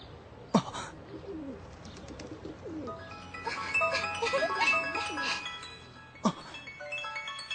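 Pigeons coo softly in a park in an anime scene, their calls mixed with brighter chirping and tones that swell in the middle and fade toward the end, with two sharp clicks near the start and close.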